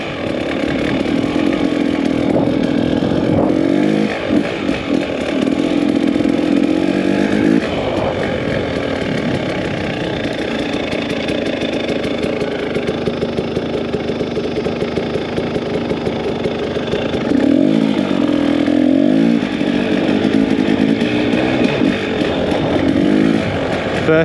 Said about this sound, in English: Now he's riding in the sand, feet up.